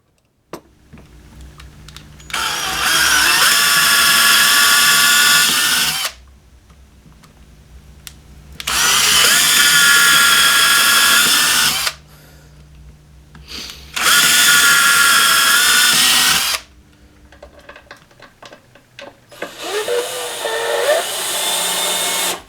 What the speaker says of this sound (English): I'll drill out the holes with a basic drill instead of a drill press